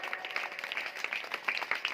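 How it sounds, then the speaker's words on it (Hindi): Congregation clapping during a Hindi-language church sermon, a quick rhythmic patter of hands, fairly faint and steady, sounding like a room of people clapping together in time. "जोर से ताली बजाओ"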